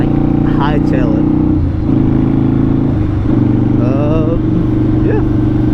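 A 2005 Harley-Davidson V-Rod motorcycle engine drones steadily and loud while riding, its deep, constant hum with small shifts in pitch running under a voice talking throughout.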